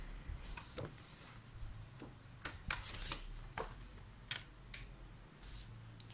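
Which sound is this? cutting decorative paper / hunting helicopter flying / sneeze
cutting decorative paper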